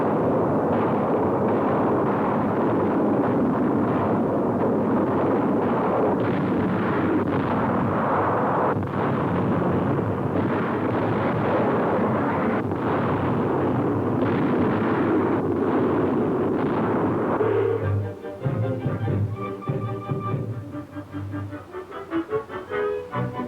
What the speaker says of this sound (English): the people of France get a heartening close-up of the Royal Air Force destroying the war plants